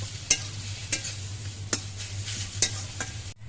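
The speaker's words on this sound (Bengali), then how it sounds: "পাতাগুলো ভাজতে ভাজতে একেবারে শুকিয়ে ফেলতে হবে" Kharkon leaves frying dry in a pan: a low steady sizzle broken by several crisp spatula scrapes and stirs spaced through the stretch, close and unaccompanied by talk.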